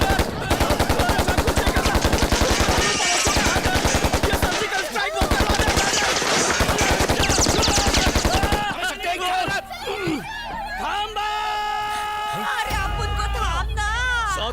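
In a Hindi film scene, a don fires bursts of rapid automatic gunfire, loud and sustained for several seconds, before it gives way to music and sound effects.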